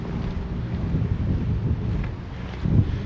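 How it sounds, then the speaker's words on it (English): Strong wind buffets an outdoor microphone on a breezy day near a level crossing at Wareham, Dorset, a steady low rumble with gusts swelling toward the end, no speech. "Not sure how well the audio is going to come out because it is quite breezy at the minute."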